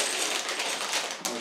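Plastic bags of WANGE toy building bricks from a V-22 Osprey tiltrotor set being handled and opened, a steady close crinkling rustle with a sharp tearing rip near the end.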